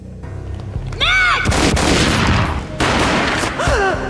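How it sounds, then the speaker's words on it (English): Gunfire in the 2001 PC video game Max Payne, a loud booming shot followed by a long crackling roar, with swooping synthetic tones before and after. "A gunshot boomed and she fell down in slow motion."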